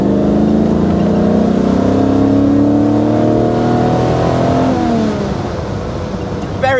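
A 1970 Maserati Ghibli Spyder's large engine revs up loud and close, its pitch climbing steadily and smoothly before easing off near the end.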